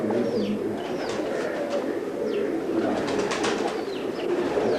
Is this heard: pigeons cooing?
yes